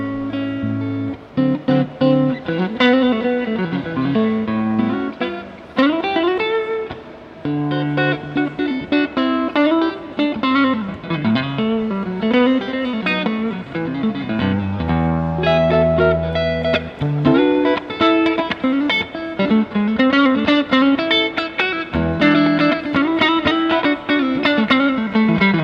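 Clean electric guitar tone played through a BluGuitar BluBox speaker emulator pedal, heard as a continuous run of chords and single-note lines, close and steady, with no talking.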